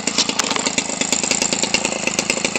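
Homelite Textron 25cc two-stroke engine, rebuilt for a giant scale RC plane and fitted with its stock carburetor, running loud and close with a fast, steady, buzzing rhythm throughout.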